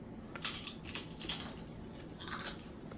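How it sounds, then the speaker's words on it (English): Close, quiet crunching and chewing of spicy jalapeño salsa, a run of soft bites and crushes repeating irregularly with no talking. "Do you know you chew incredibly loud?"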